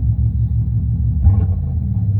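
A Yandex taxi's engine runs with a steady, deep rumble heard from inside the car, briefly surging louder and rougher around the middle as it revs, then settling back to a constant drone.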